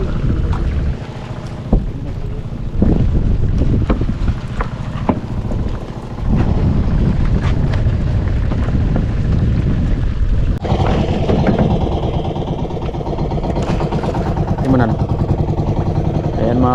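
A boat engine with an abnormal sound drones continuously with wind buffeting the microphone, a steady low rumble throughout, with people talking over it.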